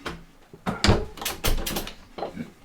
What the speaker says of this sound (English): Let me also shut the window